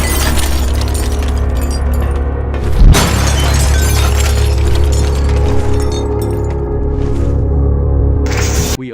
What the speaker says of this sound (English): Dark Speakerman breaks a glass and takes some weapons